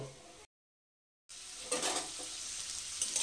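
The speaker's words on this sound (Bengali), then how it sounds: "ওই তেলের মধ্যে এবার আমি আলুগুলোকে দিয়ে দিচ্ছি। আলুগুলোকে ভেজে তুলে নেব।" Potatoes sizzle in hot mustard oil with a brief silent gap, then the frying crackle swells and stays steady and close.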